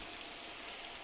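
Water poured into a pot of goat head curry, a brief steady rushing splash, close and alone.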